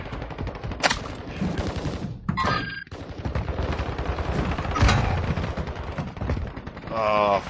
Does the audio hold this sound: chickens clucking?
no